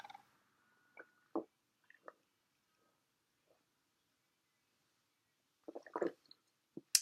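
Someone gulps down a thick gelatin herbal drink in quick swallows. Wet, squishy swallowing sounds come close and in short bursts, with a quiet pause between an early cluster and a final run of gulps.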